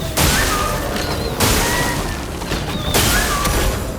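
Sack Attack Explosion skill in Clair Obscur: Expedition 33 combat: three loud, booming bursts about a second and a half apart, each followed by ringing whistle-like tones, with no talk.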